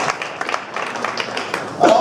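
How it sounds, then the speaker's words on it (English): Scattered applause from a concert audience at a junior high jazz band holiday show, a soft, steady patter of many hands mixed under people's voices. "can you give a round of applause for coming off your stage"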